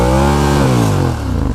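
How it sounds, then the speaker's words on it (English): A 2016 Ducati Monster 821 engine revs hard on the throttle close by, a loud, rising then falling mechanical roar with the bike rocking back under the surge, and no one talking. "Do you guys see that the bike is moving back when I throttle it up?"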